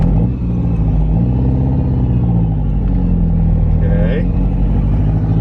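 A barn-find Ferrari 308 GTB pulling away, its engine droning loud and close with harmonic rising and falling tones as it revs, continuous under a brief spoken word.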